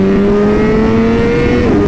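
BMW M1000RR sport motorcycle engine pulling hard, a loud, close, steady high-revving drone climbing slightly in pitch, then a sudden drop as the revs shift near the end.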